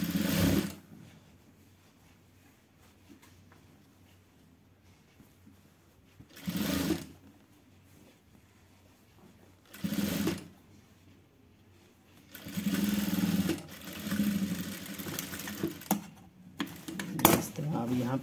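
A sewing machine stitches along the top edge of a piped collar in bursts of rapid mechanical whirring, several separate runs with pauses between them, while someone talks over the quieter stretches.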